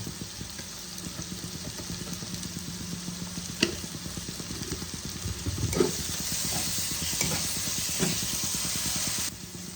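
Masala stir-fried in a pan for dhaba-style palak paneer, with a low steady sizzle and hiss, a few scattered clinks and scrapes of a spoon, and the frying growing a little louder toward the end.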